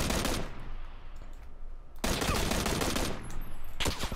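Dense bursts of rapid gunfire in PUBG Battlegrounds, loud and sustained, breaking off briefly around the middle before a second heavy volley starts up and a final burst closes.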